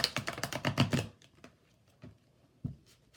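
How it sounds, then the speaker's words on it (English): A tarot deck shuffled once by hand gives a close, rapid riffle of card flutters for about a second, followed by a few isolated soft card taps and slaps. "I'm going to shuffle just once because I've pre-shuffled these"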